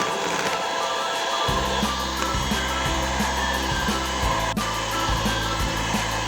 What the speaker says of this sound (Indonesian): Ini akan kita mixer sampai putih kental dengan kecepatan sedang aja ya